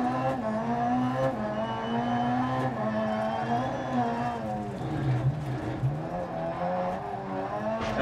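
Supercar engines from a racing video game, a steady droning whine that rises and falls with shifts, running continuously under the mix without a break.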